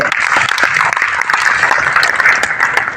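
An audience at a Marathi felicitation ceremony claps vigorously, a dense and continuous burst of many hands applauding close by for about three seconds.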